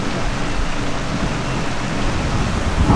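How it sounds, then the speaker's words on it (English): Heavy rain pours steadily during a thunderstorm at sea aboard a sailboat, a dense, loud, continuous hiss and rumble with no pauses and no voices. "Then it's just rain for the rest of the way."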